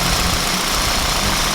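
A 2000 Toyota Celica GTS engine runs in a steady, loud, close drone with constant mid-range roar and no talking.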